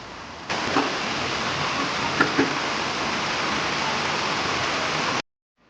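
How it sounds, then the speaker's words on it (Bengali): Steady rain falling heavily outdoors on a rainy day, a dense, even wash of noise that holds for several seconds and then cuts off abruptly, with no voices. "সুন্দর বৃষ্টি হচ্ছে।"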